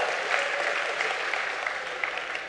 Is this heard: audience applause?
yes